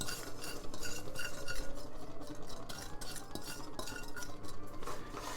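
Breadcrumbs being mixed in a pan with anchovy butter, close scraping and stirring with occasional utensil clinks against the pan, continuous and moderately quiet with no talking.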